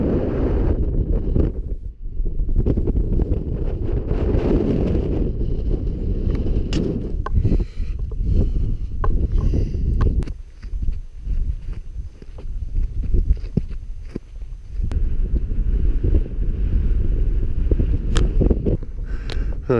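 Strong, steady wind roars and buffets the microphone on a Black Mountains summit in Wales, with low rumbling gusts and occasional faint crunching steps beneath it.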